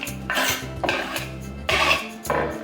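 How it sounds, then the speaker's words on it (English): Chopped onions tipped into a pot already holding potatoes, giving a run of loud, close clattering and scraping bursts spread over a few seconds, with no voice. "I'm gonna put the onions in."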